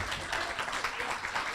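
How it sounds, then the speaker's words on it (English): Steady applause from an audience, a dense wash of clapping that holds at an even level throughout. "we'll give Javier one more big round of applause"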